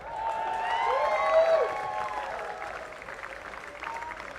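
Applause and cheering from a concert crowd for a band, a broad wash of clapping swelling then easing, with whistles and voices mixed in.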